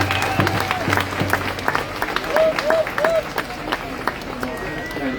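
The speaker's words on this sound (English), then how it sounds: "A big round of applause for Jordan!" Crowd clapping at an outdoor Free Palestine rally in Melbourne, scattered and uneven applause with some cheering voices over it.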